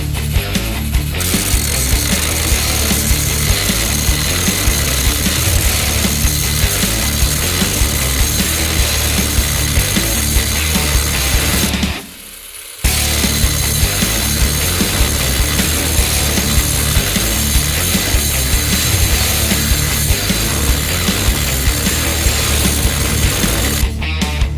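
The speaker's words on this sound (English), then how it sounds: "So let's see if it can chop the bolt off." Parkside battery-powered angle grinder cuts through a seized bolt with a loud, continuous grinding whine that halts for about a second midway, then resumes at full intensity to the end.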